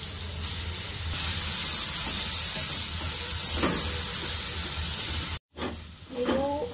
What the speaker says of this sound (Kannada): ಅದಾದಮೇಲೆ ಪನ್ನೀರ್ನ ಹಾಕೊಂಡು ಫ್ರೈ ಮಾಡ್ತೀನಿ ಫಸ್ಟು.